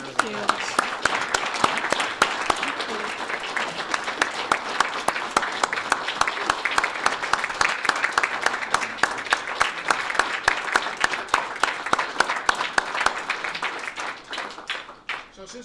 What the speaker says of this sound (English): Let's give another round of applause